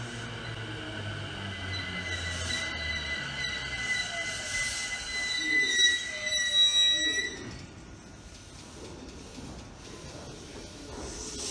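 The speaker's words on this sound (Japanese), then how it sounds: "こちらに到着した電車は中央快速線の通常の車両" A Chuo Rapid Line commuter train arriving at a station platform, with loud sustained tonal motor whine and hissing brakes building to a peak as it slows, then settling into quieter platform ambience.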